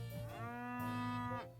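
Cows moo in a farming-life game, a long drawn-out bovine call with a rising and falling tone over a steady musical backing, loud and close, with no talk.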